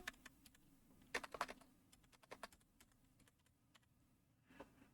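Keys on a computer keyboard clatter in quiet, irregular bursts of soft taps, with a quick flurry near the middle and a few isolated presses after.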